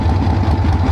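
A 1976 AMF Harley-Davidson Ironhead Sportster chopper engine idles slightly high, a steady, loud, close-up low rumble with rhythmic pulsing throughout the brief moment.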